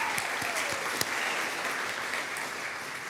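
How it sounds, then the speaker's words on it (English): An audience applauds students at a preservation awards ceremony, a dense, steady wash of clapping from a crowd, moderately distant and continuous throughout. "let's give a round of applause to our students"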